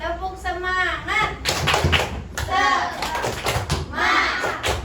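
Children join in a rhythmic clapping cheer in a classroom ice-breaking activity, bursts of claps and thumps alternating with an adult's lively voice and kids' chanting, all close and fairly loud.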